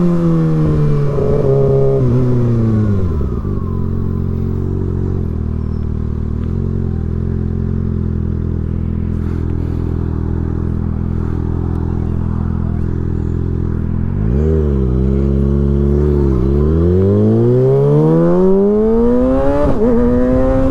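Kawasaki ZX6R sport bike fitted with an M4 GP19 exhaust, loud and close, revving up in a sweeping climb, holding a steady high drone, then dropping and surging again in another sharp rising rev, with no talking.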